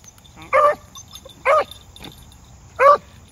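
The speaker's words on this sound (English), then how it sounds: "He's whimpering." A hunting dog out in weedy field cover gives three short, loud whimpering yelps, evenly spaced and close by, with quiet outdoor background between them and no talking.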